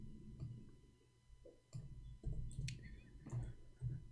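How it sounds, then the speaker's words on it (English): Keys clack on a computer keyboard in a quiet room, close and fairly faint, in short irregular bursts of clicks with pauses between them. "I'm typing in English again"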